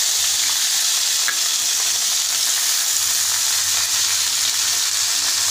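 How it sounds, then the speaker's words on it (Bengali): Chopped bottle gourd peels, already mixed with turmeric, go into hot oil with browned garlic and onion, giving a steady, loud sizzle and crackle of frying that stays even throughout with no voices. "রসুন পেঁয়াজ এগুলো সমস্ত লাল লাল হয়ে উঠেছে, ভাজা ভাজা করে নিয়েছি। এবার এই কুচি কুচি করে রাখা লাউয়ের খোসাগুলো আমি এর মধ্যে দিয়ে দেবো"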